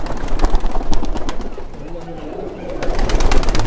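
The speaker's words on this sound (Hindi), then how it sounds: "ये सफ़ेद कबूतर है।" A white pigeon cooing close by while people talk over it, with the bird's low calls mixed with clattering movement throughout.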